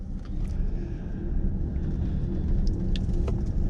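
A Chevrolet Blazer EV RS all-wheel-drive dual-motor electric SUV creeping through a tight turn around a pole, heard from inside as a steady low road rumble with faint whirring and a few light ticks and clicks, no talking.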